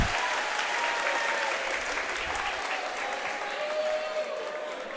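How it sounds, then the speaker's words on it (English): Audience applause fills a high school boxing showcase at Xavier High School: a steady, dense wash of many hands clapping that holds at a constant level for the whole stretch. "we're clapping here. this place is getting electric."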